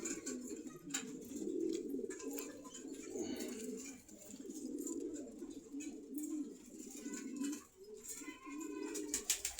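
Pigeons coo in low, overlapping, steady murmurs at the Meradia pigeon market in Khilgaon, Dhaka, with faint chirps and market bustle around them.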